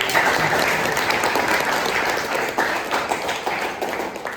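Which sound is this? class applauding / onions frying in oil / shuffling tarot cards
class applauding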